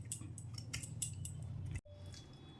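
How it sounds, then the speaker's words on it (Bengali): Fresh coconut flesh being scraped and pried from the shell with a metal tool, giving a run of crisp, close scraping strokes that stop abruptly, then a quieter stretch with light handling. "এইভাবে সব নারকেলগুলো আমি ছাড়িয়ে নেব।"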